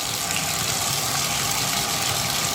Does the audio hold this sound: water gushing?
yes